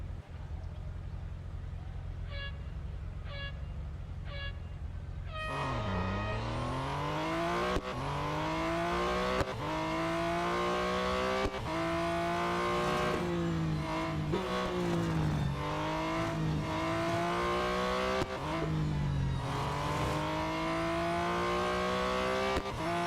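Race car engine in the Real Racing 3 video game during an autocross event at Spa-Francorchamps, revving loudly through repeated upshifts and sustained acceleration, with brief gearchange dips and a few beeps near the start.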